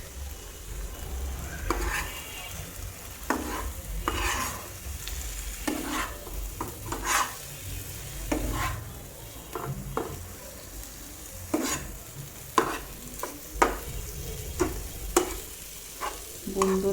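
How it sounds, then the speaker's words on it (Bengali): Koi fish is stir-fried with spices in a pan, giving a steady close sizzle broken by repeated scraping stirs of a utensil, roughly every second or two, with no voices. "এখন মাছগুলোর সাথে মশলাগুলো ভালো মতো কষিয়ে নিব"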